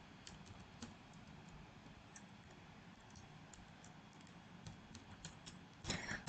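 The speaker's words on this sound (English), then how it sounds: "I will type my mail ID." Quiet, close typing on a computer keyboard, a steady run of light key clicks with a brief cluster of louder taps near the end.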